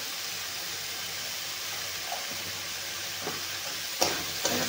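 Spices such as homemade masala powder and turmeric sautéing in a pan for brinjal bharit, a steady faint sizzle with a few soft stirring scrapes near the end.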